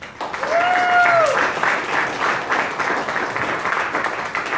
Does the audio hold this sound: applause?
yes